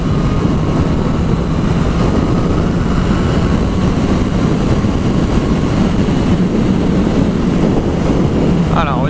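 A 2021 Honda CB650R four-cylinder motorcycle restricted for A2 licences accelerating on the road, a loud sustained engine drone with heavy rushing wind noise throughout.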